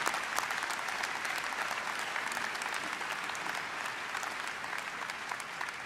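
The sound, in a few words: applause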